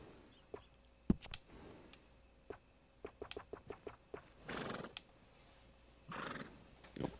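A horse in the video game Red Dead Redemption 2 whinnies and snorts in several short bursts, with hoof clops and a few sharp knocks between them, fairly quiet and without speech.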